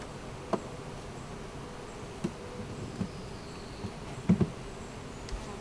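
Honeybees hum softly around a newly installed hive, a faint steady buzz with a few small knocks and taps scattered throughout.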